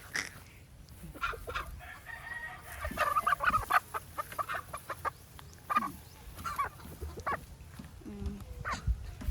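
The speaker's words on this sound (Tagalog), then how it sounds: "mga manok oh, pakita mo" Rhode Island Red chickens cluck and murmur close by in irregular bursts, with a rooster crowing and a dog barking in the mix.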